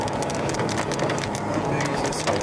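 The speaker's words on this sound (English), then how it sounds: "How big is this hail?" Hail falling hard during a storm on a tornado chase, a dense, continuous rattling patter across surfaces with a low rumble beneath, loud and steady without pause.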